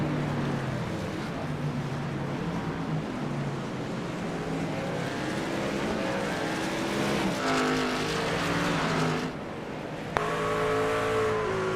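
A race truck engine in a racing sim at Sonoma drones steadily, its pitch rising and falling through gear changes, with a brief drop in revs near the end.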